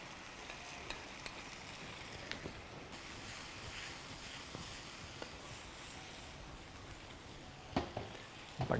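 Chicken sizzles and fries in tomato masala in a pan, a soft, steady crackle with occasional clinks and stirring scrapes close by.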